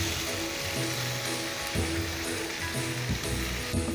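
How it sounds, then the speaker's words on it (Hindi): Tomato paste sizzling in a pan with onions, garlic, ginger and chilies over medium-high flame, a steady dense crackle with scraping and stirring knocks throughout. "अब इसके अंदर हम डालेंगे टमाटर का पेस्ट। एक बार अच्छे से मिक्स करते हैं।"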